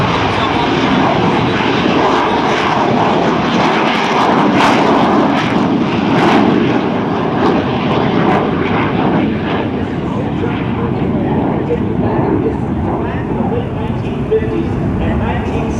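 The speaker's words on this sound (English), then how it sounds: "what that's going to allow him to do right here is take off in very short distance. He's already off the ground." An AV-8B Harrier II jet taking off in a very short distance at a military open house airshow demonstration, using vectored thrust nozzles, gives a loud, continuous roar that fills the whole stretch without a break.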